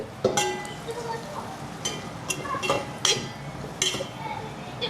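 A spoon clinks and scrapes against a pan while onions are stirred with turmeric and chili powder for a curry, the sharp metallic knocks coming at irregular intervals under a person talking.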